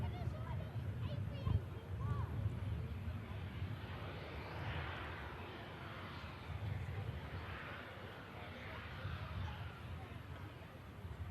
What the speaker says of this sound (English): We have a Lufthansa City coming in next from Frankfurt,